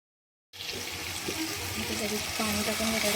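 Water is poured into a mixer jar holding tomato, garlic and chili paste: a steady, close rushing splash that starts abruptly after half a second of silence and keeps flowing evenly to the end.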